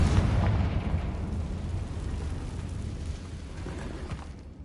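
The Confringo blasting spell in Hogwarts Legacy, cast inside an abandoned cave, goes off as a loud, close burst that fades into a long rumbling, crumbling roar as the blast noise slowly dies away.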